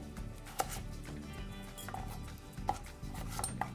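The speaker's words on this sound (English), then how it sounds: "I'm going to cut them into 1/2-inch strips." A knife slices peeled russet potatoes into half-inch strips on a cutting board, making several sharp, separate chops at uneven intervals that sound close but fairly quiet, with no talking.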